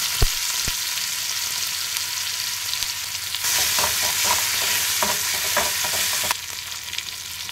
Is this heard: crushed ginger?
yes